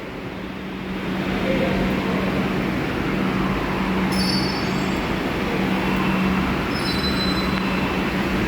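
A metro train on the new Joka line between Behala Taratala and Joka rumbles steadily from inside the carriage, a continuous loud roar with high wheel squeals flaring briefly twice, and faint voices underneath.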